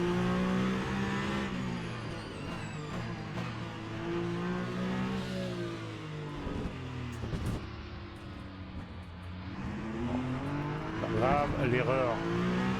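A Peugeot 9X8 race car in the sim racing game Le Mans Ultimate at Bahrain, its engine droning and revving through gear changes with occasional tire squeal, while someone talks over it.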